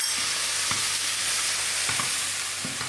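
Tomato frying in a pan with sausage, a broad steady sizzle filling the clip at close range, with a few soft stirring clicks and scrapes spread through it and no voices.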